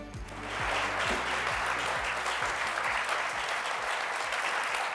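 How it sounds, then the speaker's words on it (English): An audience claps loudly and continuously at a book club program event, sustained applause filling the room without letup. "Stop clapping."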